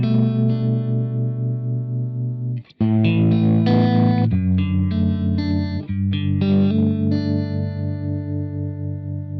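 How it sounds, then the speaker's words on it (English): Crazy Tube Circuits White Whale V2 guitar pedal set to harmonic tremolo, giving sustained distorted guitar chords a steady pulsing, wavering throb with reverb; loud and continuous with no voices, one brief drop partway through. "So at the moment I've got it in the harmonic tremolo, which is my favourite sort of tremolo."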